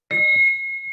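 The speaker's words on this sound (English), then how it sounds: "I'm gonna fake ring the bell." A single bright bell ding opens an online meeting, struck once and left ringing with a clear sustained tone that slowly fades.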